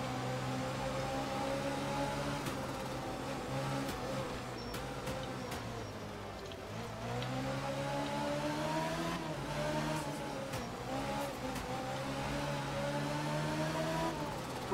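Rally car engine in a racing video game, coasting over a hill in Kenya: a steady, droning engine hum with shifting pitch that dips and rises again, continuous and fairly loud throughout with no talk.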